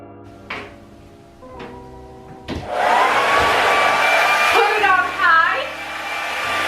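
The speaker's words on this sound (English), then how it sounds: "And then you would take your trusty blow dryer, put it on." A handheld blow dryer used on bleached, damaged hair switches on after a few clicks and runs with a steady loud whoosh, its pitch wavering as it moves near the hair.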